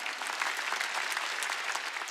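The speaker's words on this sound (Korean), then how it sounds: "박수 치라." Sustained applause from a congregation at a Korean Wednesday church service, a uniform wash of many hands clapping throughout, fairly soft and even with no speech on top.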